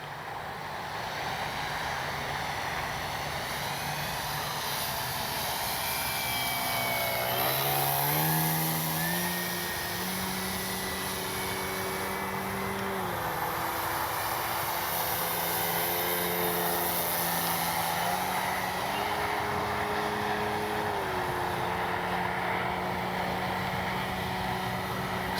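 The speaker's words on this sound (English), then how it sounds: "Phenomenal flying plane. Absolutely phenomenal flying plane." An Avios Extra NG RC airplane flies continuously with a steady electric motor whine, the pitch dipping and rising with throttle as it maneuvers, constant and moderately close with no voices.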